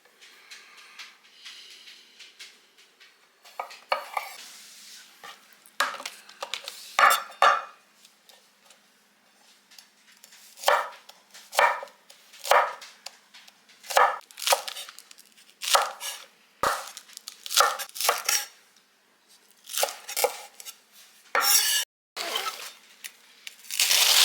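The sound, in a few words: vegetables being chopped with a knife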